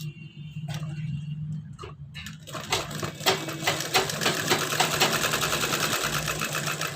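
Sewing machine stitching an embroidered blouse sleeve: starts with slow, sparse ticks and a low hum, then settles into a fast, steady run of stitching clatter, close and clear.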